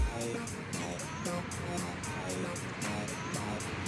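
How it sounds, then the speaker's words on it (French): Road traffic along the banks of the Rhône keeps up a continuous, moderate wash of passing cars, with a faint rhythmic ticking running through the steady noise. "vous entendez bien le bruit des voitures et tout"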